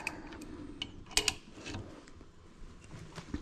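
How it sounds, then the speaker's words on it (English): A wrench turning on the clutch of a modified Bafang geared hub motor: close, moderately quiet ratcheting clicks and metallic ticks in an uneven rhythm over a low mechanical rumble. "So I'm just gonna keep wrenching this thing"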